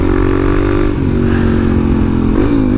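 A Suzuki DRZ400SM single-cylinder motorcycle idles close by, a loud steady engine thrum with a slight dip and a brief blip of throttle near the end, no talk.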